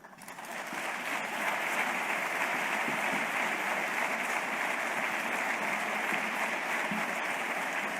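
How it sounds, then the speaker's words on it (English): Sustained audience applause at the 2021 Distinguished Leadership Awards ceremony, a dense, even wash of clapping that swells in over the first second and holds steady and loud throughout. "please give her another round of applause"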